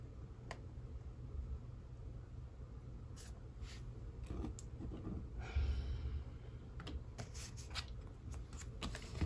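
Soft, close card shuffling rustles and riffles in quiet bursts, with small taps and clicks over a low background hum.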